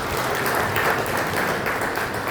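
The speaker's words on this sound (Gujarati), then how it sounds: "મિત્રો જોરદાર તાળી આપો" An audience claps together at a farewell ceremony, a sustained, even wash of applause with no break.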